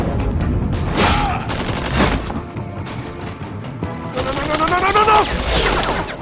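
Loud rapid gunfire and bursts of shots fill a SpongeBob Borderlands parody video game battle, with shouting voices and other game sounds mixed in throughout.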